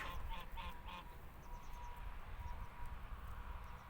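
Geese honking a few times in quick succession, somewhat distant, over a steady outdoor background noise, followed by fainter calls.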